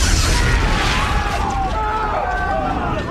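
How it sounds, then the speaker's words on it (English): A powerful explosion blast in a radio drama of Metropolis, heard as a sustained, loud broadband roar that rumbles through the whole stretch beneath a murmur of crowd noise. "I can see the explosion out on the skyline. It looks miles away, but it's so strong the blast hits us."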